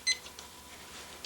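Timer on a Turbo Cooker going off in a kitchen, one short high electronic beep burst near the start, then quiet room tone with faint later clicks.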